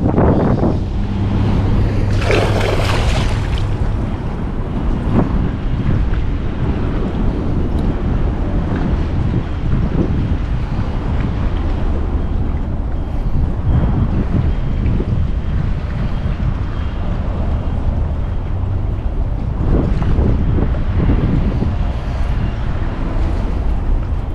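Strong, steady wind roars and buffets the microphone throughout, with a low engine-like rumble and water sloshing beneath, as if out on open water.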